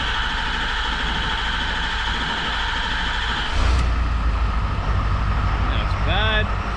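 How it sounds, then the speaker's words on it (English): A Ford 6.7 Powerstroke diesel truck cranks briefly, then fires and settles into a steady low, rumbling idle that carries on loud and close to the end, with a short squeal near the finish. "now I'm gonna crank her over"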